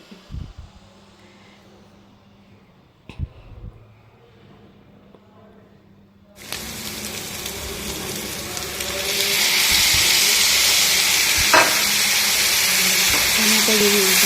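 Chicken curry cooking in tomato gravy in a pan, a quiet background at first, then a sudden broad steady sizzle and hiss that grows louder and holds, with faint talk early on.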